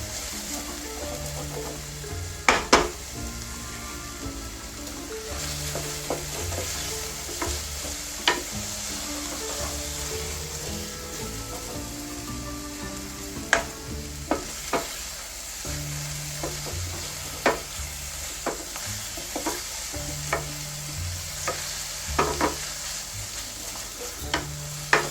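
Mushrooms frying over medium-high heat give a steady soft sizzle in a pan, broken by scattered clicks and scrapes of stirring.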